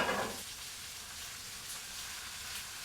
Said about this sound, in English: I'm just going to toss some butter into this pan